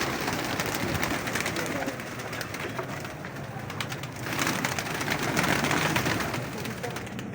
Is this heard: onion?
no